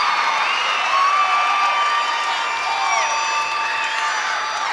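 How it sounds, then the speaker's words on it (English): At a college gymnastics meet between NC State, UNC and WMU, a crowd cheers loudly, with high-pitched shrieks, whoops and shouts layered over a sustained roar. "And the crowd going crazy."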